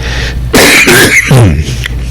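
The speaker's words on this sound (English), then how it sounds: "Oh my God, I coughed" A couple of loud, harsh coughs burst out close by, a throaty hack followed by another rough cough.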